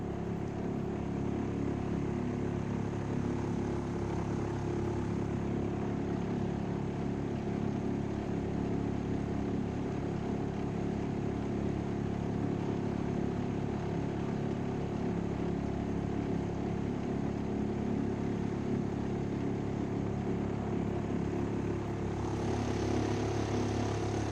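A twintroller X10 boat engine, new and still being broken in, runs at about quarter throttle on a swift river, giving a steady, loud, continuous drone with no speech over it.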